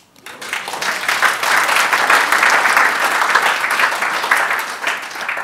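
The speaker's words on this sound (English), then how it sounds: "Is that worth a clap?" An audience breaks into applause, dense steady clapping that rises quickly, holds for several seconds and tapers slightly at the end.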